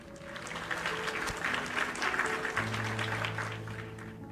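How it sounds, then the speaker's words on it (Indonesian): Applause for teachers rings out briefly from a small group, a dense patter of clapping that rises and fades over a few seconds with faint background tones underneath. "tepuk tangan dulu dong buat para ibu dan bapak guru"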